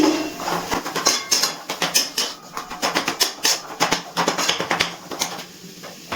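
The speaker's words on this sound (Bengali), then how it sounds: "এর মধ্যে দিয়ে দিচ্ছি গরম মশলার গুঁড়ো, মিশিয়ে নিচ্ছি।" Chicken chop mixture with garam masala powder being mixed by hand, giving rapid irregular wet patting and squishing taps, close and fairly loud, with occasional utensil clinks and no talking.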